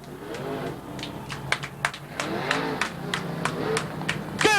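A crowd at a stock car race at Raven Raceway in 1987 claps in scattered, uneven bursts, with close sharp hand claps over a low murmur of the stands.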